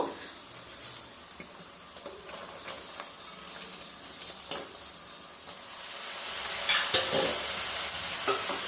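Cabbage tossed in hot oil with turmeric in a frying pan, a spatula scraping and stirring in occasional strokes over a soft continuous sizzle that grows slightly louder toward the end.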